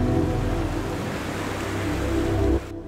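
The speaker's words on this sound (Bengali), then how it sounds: "এখন আপনারা দেখছেন খয়েছড়া ঝর্ণার সর্বশেষ ধাপ।" Rushing water at the last step of Khoiyachora waterfall in Mirsharai, Chittagong, a loud steady roar that stops abruptly near the end.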